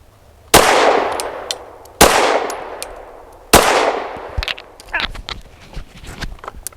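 Three loud, sharp pistol shots from a Derya Arms Rock Island DY9 firing Winchester ammunition, spaced about a second and a half apart, each with a ringing outdoor decay, followed by faint clatter and movement.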